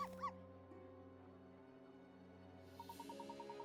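Video game dog character in Professor Layton vs Phoenix Wright lets out a couple of sharp barks, then a rapid series of whimpering yips, over a steady musical background.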